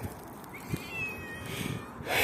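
A cat lets out a drawn-out, wavering meow, up close, followed by a second rising cry at the end.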